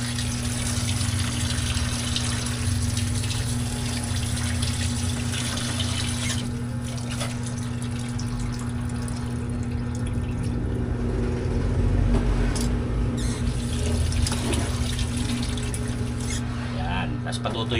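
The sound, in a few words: water running from tap while washing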